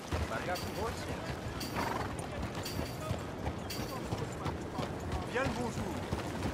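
Horse hooves clop steadily in a busy Red Dead Redemption 2 game scene, with occasional whinnies and dense background noise throughout.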